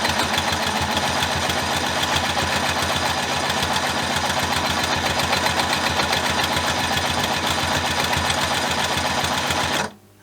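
A sit-down midarm-longarm quilting machine stitches at a steady, rapid rhythm, loud and close with no talk, running continuously until it stops abruptly at the very end.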